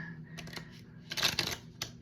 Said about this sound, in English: these cards have got some use to them, getting hard to shuffle